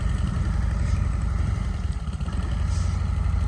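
Close-up 2021 Harley-Davidson Road Glide Special V-twin engine idling, a loud, deep, lumpy potato-potato rumble that runs steadily throughout with no talk over it.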